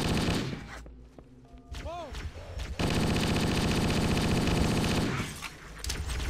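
Sustained automatic gunfire in the Halo video game, a dense loud rattle of rapid shots filling most of the stretch after a brief quieter lull with chirpy game effects, fading near the end.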